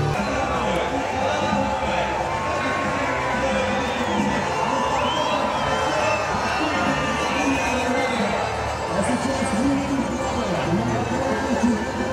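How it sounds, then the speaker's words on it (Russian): A lively crowd cheers and shouts at the Olympic torch relay in Vladikavkaz, a loud, continuous outdoor roar with whoops and children's voices while an announcer talks over it. "Аплодируем, друзья!"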